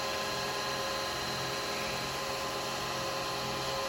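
A small electric drill with a 3mm bit bores into wood at close range, a continuous high buzzing hum with no talking.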